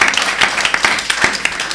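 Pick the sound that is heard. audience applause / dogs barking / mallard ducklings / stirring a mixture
audience applause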